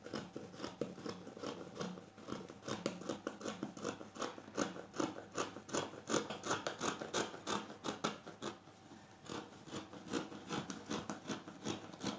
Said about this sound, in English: So you just go ahead and cut your fabric.